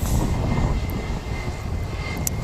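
An Airbus A320neo takes off at Wellington Airport, its jet engines loud and roaring throughout at fairly close range.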